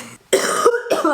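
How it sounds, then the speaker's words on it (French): Two or three harsh, close coughs in quick succession, loud and raspy with short gaps between them. "Ah, j'en tousse."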